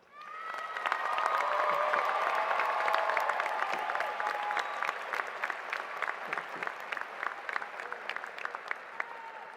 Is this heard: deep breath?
no